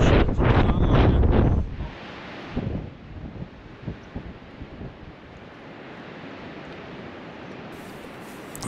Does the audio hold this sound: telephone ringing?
no